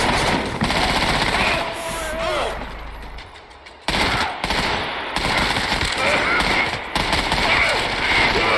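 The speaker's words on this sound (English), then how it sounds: "they keep shooting" Video game gunfire, rapid bursts of automatic shots in a firefight, loud and repeated with short pauses, under a player's talk.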